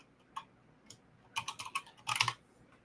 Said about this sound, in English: Let me see if I can't type in YouTube here.